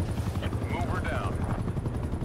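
Steady low rotor thrum from an attack helicopter in Call of Duty Cold War, continuous throughout while a voice talks over it.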